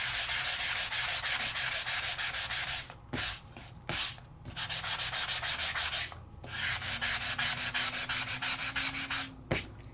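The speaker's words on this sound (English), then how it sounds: "And you'll see it sanded to a slightly lighter color than the original color" Sandpaper rubbed over a die-cut craft piece to distress its surface, in fast, close, rhythmic back-and-forth strokes with a few brief pauses, and no talking.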